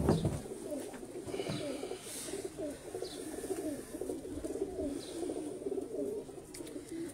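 Pigeons coo softly in a keeping loft, with repeated low, rolling coos overlapping continuously at a moderate distance and occasional faint chirps over quiet background.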